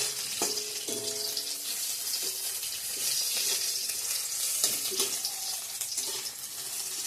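Onion, dried red chili, bay leaf, ginger and whole cumin sizzle steadily in hot oil, a continuous crackling fry with a few clinks of stirring, close and alone.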